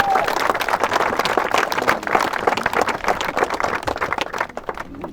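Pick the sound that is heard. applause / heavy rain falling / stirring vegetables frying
applause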